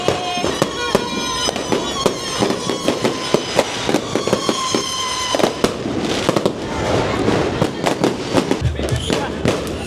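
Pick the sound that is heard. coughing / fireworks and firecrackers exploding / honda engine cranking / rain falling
fireworks and firecrackers exploding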